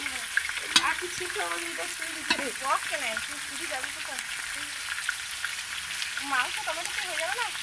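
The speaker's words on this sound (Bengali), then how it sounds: "এখন এখানে আলুটা ভাজা হচ্ছে।" Potatoes frying in oil give a steady, fairly faint sizzling hiss, with a few soft stirring clicks and indistinct voices talking faintly in the background.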